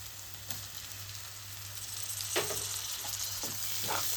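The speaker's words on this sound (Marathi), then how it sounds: "परतून घेऊ." Finely chopped tomato sautéing with onion and ginger-garlic paste for a dhaba-style kaju curry: a steady, soft sizzle throughout, with a few faint stirring scrapes and clicks, no talking.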